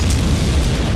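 An explosion in the game Dark Souls sounds as a loud, dense, continuous roar of low rumbling noise that fills the whole moment without a clear gap or any talk.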